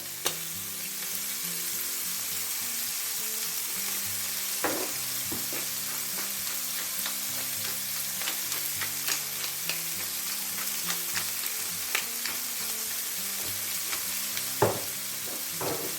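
Chicken livers seasoned with salt and pepper fry in a pan with a steady, close sizzle and crackle, punctuated by sharper pops and occasional stirring clicks, with no talking.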